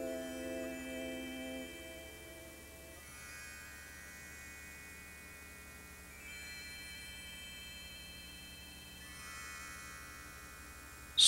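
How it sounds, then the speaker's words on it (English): Insects buzzing near a stream in the Ozarks, a thin continuous whine that shifts pitch in steps over a low steady hum, close and fairly faint, ending in a brief loud bump. "Strange insects."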